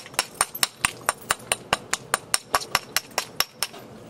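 Glass from a TV screen being knapped with a hammer, about eighteen sharp, bright strikes landing in a steady rhythm at close range, each one a hard click with a short ring and no voices.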